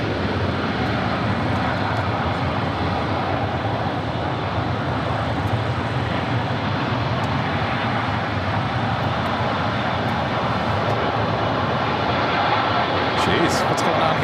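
A United airliner lands at LAX with thrust reversers deployed, a loud, continuous broadband engine roar close by that stays heavy throughout, with voices talking over it.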